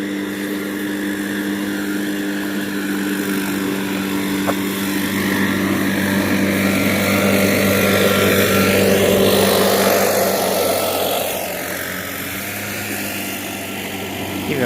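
Leaf blowers run outdoors as a loud, continuous engine drone with a whooshing roar that swells and eases slightly, filling the whole stretch without pause.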